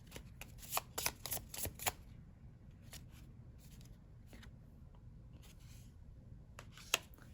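Oracle card deck being shuffled by hand, a quick run of crisp riffling bursts at the start, then scattered softer card flicks and slides, with one sharp snap near the end, close and fairly quiet with no talking.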